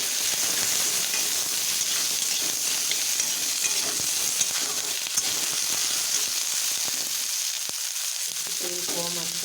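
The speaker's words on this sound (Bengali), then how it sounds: "একটু ভেজে নেব" Onions and chopped red and green chillies sizzle steadily in a little oil with nigella seeds in a pan for fried rice, a constant close hiss with occasional small crackles and pops throughout.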